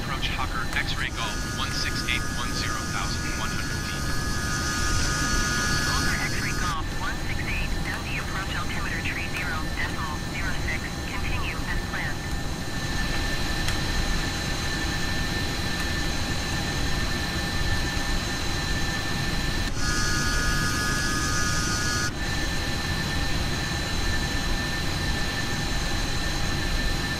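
Steady, loud jet engine drone of a Hawker business jet in Microsoft Flight Simulator on approach to Dundee, with constant whine tones that shift slightly as the throttle changes, continuing under talk.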